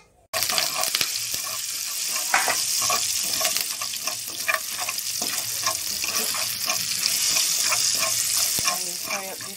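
Slices of fish frying in a pan for a Jamaican-style brown stew, loud dense sizzling with crackles and pops that runs steadily after a sudden start, no speech.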